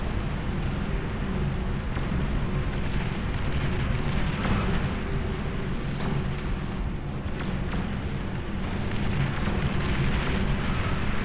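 Artillery and missile units fire in a strategy video game, giving a dense, continuous rumble of booms and blasts at a steady loud level.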